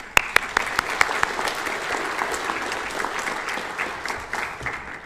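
A crowd at a graduation ceremony for the class of 2024 applauds. The clapping is dense and sustained, with a few sharp near claps at the start, and the ovation stays steady before easing off slightly.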